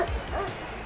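A dog on a paddleboard in McCovey Cove gives a quick run of yips and whimpering barks, close and fairly loud, over a steady outdoor background.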